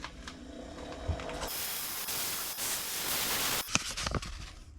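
A broad, steady hiss of 220-grit sandpaper rubbing against a wooden pen blank spinning on a lathe lasts a few seconds, rising and falling slightly, with a sharp click near the end.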